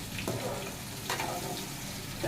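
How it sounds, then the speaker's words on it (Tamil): Fish frying in a pan for a Kerala-style fish pickle, a steady broadband sizzle with a couple of brief crackling bursts, close and continuous with no talk. "நல்லா வறுத்து எடுக்கணும்"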